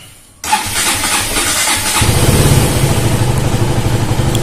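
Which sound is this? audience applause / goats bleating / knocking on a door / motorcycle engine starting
motorcycle engine starting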